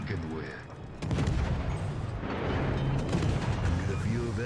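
Rapid naval gunfire from the Tier IX European destroyer HSwMS Östergötland in World of Warships, a dense, booming run of shots that rolls on continuously over rumbling battle noise.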